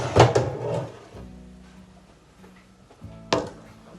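A slow-cooking oven door opening with a loud clunk to take out a gammon, followed by a low hum and another sharp knock near the end.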